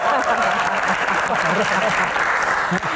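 Audience applause at an Indonesian comedy Q&A show, a steady loud wash of clapping for a panelist, with some crowd noise and a host's voice mixed underneath.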